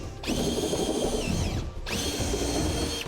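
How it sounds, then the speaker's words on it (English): A power drill with a step drill bit whines loudly in two long bursts with a short pause between, its pitch steady as it bores through metal on a 2004 Chevrolet Silverado during a fifth wheel hitch installation. "we're going to use the step bit process, starting with a smaller pilot bit"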